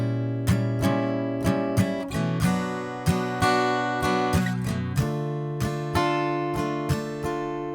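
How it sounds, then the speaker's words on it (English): Acoustic guitar strumming a country pattern, a close, bright rhythm of crisp down and up strokes ringing out steadily with no voice over it. "it's a great country strumming pattern"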